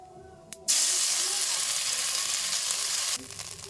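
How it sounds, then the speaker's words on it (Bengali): Whole cumin seeds and a ginger-cumin paste hit hot oil for a mustard hilsa fish curry, bursting into a loud, bright, continuous sizzle for about two and a half seconds before it suddenly drops back. "ফোড়নে দিয়ে দেবো গোটা জিরে এবার দিয়ে দেবো আদা জিরে বাটা"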